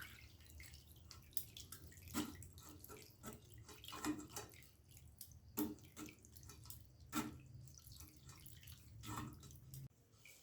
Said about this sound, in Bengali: সেজন্য ঠান্ডা জলে একটু ধুয়ে নেব।